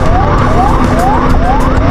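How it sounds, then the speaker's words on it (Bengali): An emergency ambulance siren wails along a rain-flooded street in Mirpur, Dhaka, its rising sweeps repeating evenly and loudly over constant traffic rumble. "ইমার্জেন্সি অ্যাম্বুলেন্স যাচ্ছে মেবি সামথিং রং"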